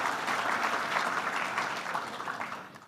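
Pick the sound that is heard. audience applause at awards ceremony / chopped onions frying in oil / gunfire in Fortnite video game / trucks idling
audience applause at awards ceremony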